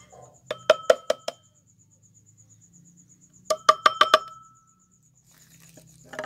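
Mercury being put into a stone mortar (khal) and ground, heard as two quick bursts of sharp, ringing clinks, about five strikes each, separated by a quiet pause.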